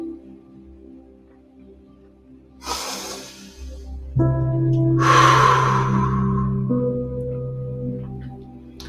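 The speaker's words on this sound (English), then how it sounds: "Breathe. Nice and slow." Slow, deep breaths during an exercise workout, two long breathy exhalations rising over a steady low hum of background tones.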